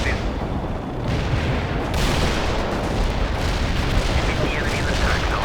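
An artillery barrage rumbles in the World in Conflict battle game as a dense, continuous wall of booms and blasts, loud and unbroken, with radio-style voices talking faintly over it.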